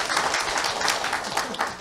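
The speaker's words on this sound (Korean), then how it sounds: "그러면 박수 줘야 돼요." An audience at a sales-training lecture gives brief, moderately loud applause, a scattered patter of clapping with no talk heard over it.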